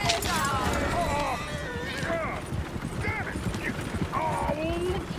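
Hooves clip-clop steadily in Red Dead Redemption 2 while voices talk and shout over them, with a horse whinnying among the noise.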